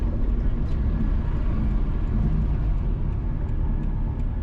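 Steady engine and tyre roar from a car driving along a road in New Kingston, Kingston, Jamaica, heard continuously from inside the vehicle with no breaks.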